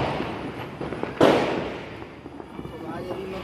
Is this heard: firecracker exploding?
yes